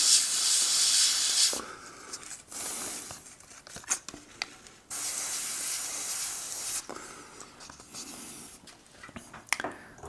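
An airbrush sprays paint in uneven bursts of airy hiss, some long and steady, others short and sputtering, with pauses between passes as it fails to spray properly.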